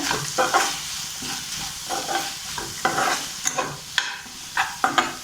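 Thoothuvalai leaves are sautéed in a pan for chutney, with a constant soft sizzle and irregular close scraping and stirring clacks of a spatula, no talking.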